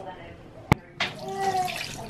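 Liquid is poured out, a sharp click followed by a steady, fairly loud splashing and trickling that continues to the end.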